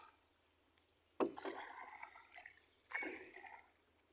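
A wooden country boat is rowed on water, with two distinct oar strokes a couple of seconds apart, each a splashy swish and gurgle, quiet and fairly close with no talking.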